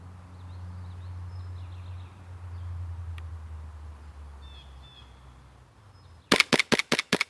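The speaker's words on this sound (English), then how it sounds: "I didn't plan it to be a mag dump." A homemade airsoft carbine pistol fires a rapid burst of about seven sharp, loud shots in quick succession, coming after several seconds of low background rumble.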